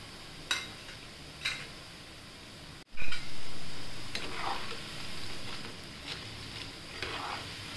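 Crispy fenugreek pakoda deep-frying in hot oil, a steady, close bubbling sizzle punctuated by a few clinks and a sharp rise as more batter or a spoon stirs the oil, with no talking.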